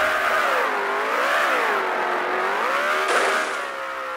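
A 1400-horsepower supercharged car engine in BeamNG.drive revs loud and continuous, its pitch swelling and falling in repeated smooth waves with no talk over it.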